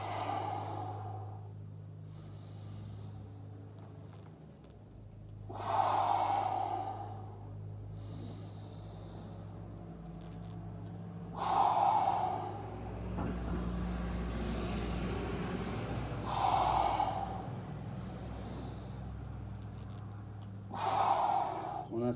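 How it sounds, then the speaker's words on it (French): Slow breathing during an exercise routine, in through the nose and out through the mouth, repeating about every five seconds over a low steady hum, with a soft voice talking in places. "on inspire par le nez et on expire toujours par la bouche"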